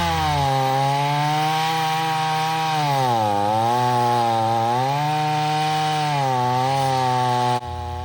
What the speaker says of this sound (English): the technique we are using here is called an Alaskan mill, and it's a bar that bolts on to the bar of the chainsaw